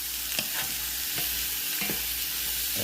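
Garlic frying in a pan for a pork neck bone dish gives off a steady close sizzle, with a few brief stirring scrapes across the short stretch and no voices.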